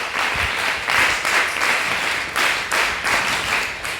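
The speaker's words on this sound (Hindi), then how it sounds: "इन सबके लिए एक बार जोरदार तालियां" An audience at a college stress-management programme claps heartily to welcome guests, a dense steady wash of hands with gentle swells in intensity across four seconds, fairly close and loud, with no talking.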